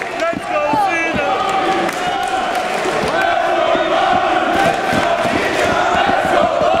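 A wrestling crowd at a wXw event in 2018 chants in a loud, sustained, rhythmic unison, the dense roar of many voices filling the hall without a break.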